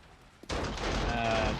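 A gun fires suddenly in a zombie survival game after a faint click, a loud sustained blast of gunfire that rings on to the end.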